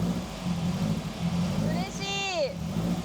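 A Porsche engine that stalls unless the accelerator is held catches and settles into a low idle in a garage, a steady near rumble with a brief whistling whine rising and falling over it partway through.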